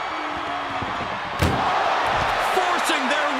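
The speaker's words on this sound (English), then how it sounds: "Look at the struggle just to shut that first door" A heavy ambulance door slams shut in a WWE 2K25 wrestling match, one sharp impact about midway, heard over constant commentary and a steady crowd roar.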